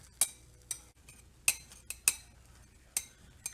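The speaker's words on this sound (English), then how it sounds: "And now I'm going to take a knife and go around it" A knife worked around the edge of a chili cornbread casserole pan gives a series of sharp metallic clinks and scrapes, about seven distinct strikes spaced irregularly, close and moderately loud with no talking.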